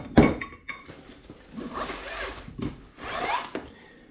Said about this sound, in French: on a 4 parties qui doivent venir se visser les unes aux autres